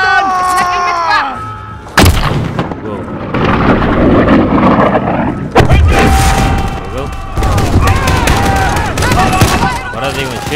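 Gunfire and explosions in Call of Duty: Modern Warfare, a loud dense barrage of shots, blasts and booming impacts with game voices and shouting mixed in throughout.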